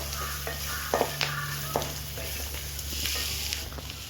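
Drumstick leaves and tamarind being sautéed in a pan, giving a steady low sizzle with several sharp stirring scrapes and clicks from a spoon, close by and without talk.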